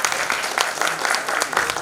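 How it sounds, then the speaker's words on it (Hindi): Audience applause welcoming a theatre artist at an Andher Nagri play event, a brief burst of many hands clapping at a steady, fairly loud level. "मैं चाहूँगा तालियां बजा के एक बार उनका स्वागत करिए आप"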